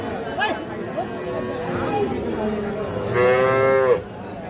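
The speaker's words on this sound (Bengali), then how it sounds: "এটা একটা ষাঁড় বাচ্চা" A young cross Sahiwal bull calf at a busy cattle market moos loudly and close, one drawn-out call near the end over a background of crowd chatter and people talking.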